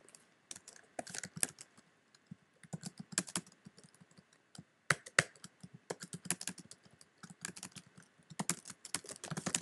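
Fingers type on a computer keyboard in irregular quick bursts of crisp key clicks, close and alone with brief pauses.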